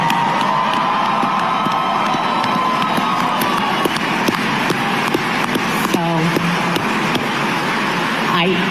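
An audience applauds and cheers, a dense continuous roar of clapping and shouting voices with some whistles and higher yells rising over it, steady for the whole stretch.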